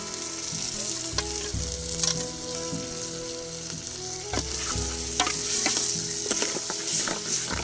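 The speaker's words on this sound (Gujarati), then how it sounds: "હવે આ નાખી દઉં બાફેલી તુવેર" Boiled pigeon peas (tuver) tipped into a hot frying pan in a Gujarati village kitchen, giving a steady close sizzle with repeated stirring scrapes and clinks throughout, no talking.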